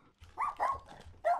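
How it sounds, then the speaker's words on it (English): A dog in a video game barks three times in short, loud, separate bursts spread over about a second and a half, with no talk over them. "This dog's gonna bite me."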